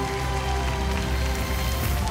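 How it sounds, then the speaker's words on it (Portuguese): Audience applause for a singer after a battle round on a televised singing competition stage, a broad, steady wash of many hands clapping at once, loud and continuous throughout. "Um aplauso para o Diogo."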